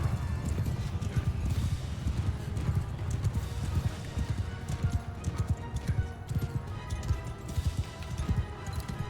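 Horses gallop in the medieval battle game Mount & Blade II Bannerlord, with dense, rapid hoofbeats clip-clopping continuously, loud and close, and occasional whinnies within the rumble.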